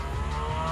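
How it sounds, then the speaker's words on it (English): A Jaguar F-Type R-Dynamic P300 coupe's four-cylinder engine drones steadily for under a second, a close, fairly quiet hum with no voices. "it still is one of the best sounding 4-cylinder engines"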